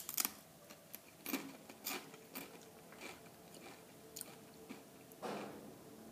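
Close, faint crunching of a nacho cheese junk food snack being chewed, in a series of irregular crisp bites with quiet gaps between them.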